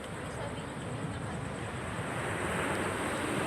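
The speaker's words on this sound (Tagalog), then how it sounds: "malakas yung hangin dito tabing dagat" Strong wind buffets the microphone in a constant roar, with surf washing in the background throughout.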